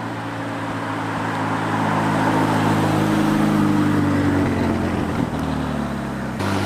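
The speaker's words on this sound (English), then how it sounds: "That was a McLaren 570 GT." A McLaren 570 GT sports car drives past, its engine note building to a loud, close drone that holds steady for several seconds before fading off, with no talking over it.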